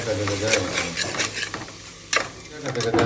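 Tomatoes are stirred into a pan for a home-style chicken curry, with a spatula scraping and clacking in repeated strokes over a steady background sizzle, close and fairly loud.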